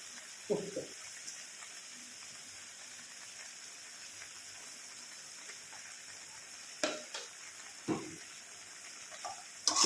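Goat head meat fries in a pan with turmeric and salt, giving off a faint, steady sizzle, while a spoon scrapes and stirs it in a few sharp clatters spread across the clip.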